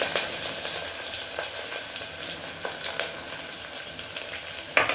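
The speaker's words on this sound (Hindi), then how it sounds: "प्याज के साथ ही हरी मिर्च और लहसुन को भी डाल देते हैं। और प्याज को हल्का भून लेते हैं" Onions, green chilli and garlic frying in oil in a cooker on a low gas flame: a steady, dense sizzle throughout with occasional soft stirring clicks, close and alone without talk.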